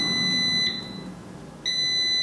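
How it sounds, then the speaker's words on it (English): An air fryer cooking pork chops sounds its finished signal, two loud high electronic beeps separated by a short pause. "That's the final beep."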